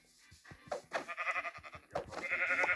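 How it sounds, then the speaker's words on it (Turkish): Minecraft sheep bleat in a run of wavering cries, moderately loud and close, heard alone with no talk. "Aha koyun."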